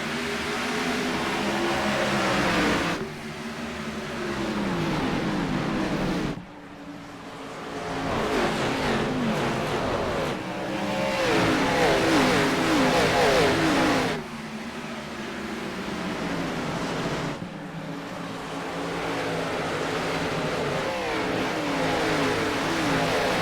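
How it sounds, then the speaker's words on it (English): Race cars accelerating at the green-flag start of an oval race at Richmond, a continuous loud roar of engines that swells and shifts in waves as the field passes, with no talk. "Pace car left-hand turn off the pit lane, and we are green here at Richmond."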